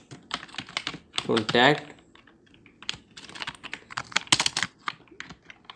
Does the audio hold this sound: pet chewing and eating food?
no